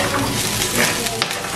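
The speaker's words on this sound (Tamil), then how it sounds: "இப்போ காஞ்ச மிளகாய் போட்ட பிறகு ஒரு ஒன்றரை நிமிஷம் வதங்க விடுவோம்" Cauliflower sautéing with dried red chilies for a Sri Lankan-style cauliflower stir fry, giving a loud, dense sizzle heard close up without a break, with faint stirring underneath.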